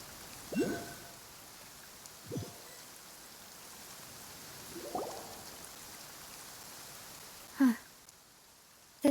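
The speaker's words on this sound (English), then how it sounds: "It's been raining non-stop for a few days now." Rain falls steadily in Genshin Impact as a soft, even patter behind a few brief faint voice fragments and small rustles.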